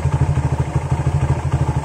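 A Yamaha GL Max motorcycle engine idles close by, its firing a quick, steady low chug with a slight mechanical clatter, loud and even throughout.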